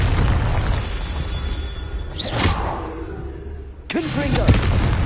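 A swooshing magical blast followed by a sudden booming burst as a fire spell is cast in Hogwarts Legacy, with a voice speaking over the effects.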